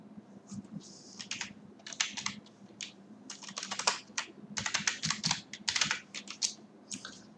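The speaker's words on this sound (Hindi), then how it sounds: "तो मैं अपना डाल दे रहा हूँ यूजर नेम एंड पासवर्ड" Quick, irregular bursts of keystrokes on a computer keyboard as a username and password are entered, close and crisp with short pauses between clusters.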